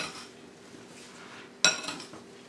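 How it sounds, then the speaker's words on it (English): Apples are mixed with brown sugar and spices in a bowl, a quiet shuffling stir followed by one sharp clink of a utensil against the bowl and a short rattle. "Just mix it all together."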